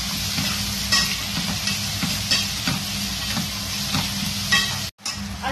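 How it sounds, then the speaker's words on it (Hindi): Steady sizzling of garlic, ginger and green chili paste frying in a hot pan, with occasional stirring scrapes and a brief pause near the end; no talking. "लहसुन और अदरक हरी मिर्च का पेस्ट भूनने के बाद"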